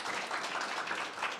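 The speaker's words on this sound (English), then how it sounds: "give a round of applause for our outgoing board" Audience applauding outgoing board members at a community recognition gathering, a brief, quiet patter of many hands clapping together, steady and somewhat distant.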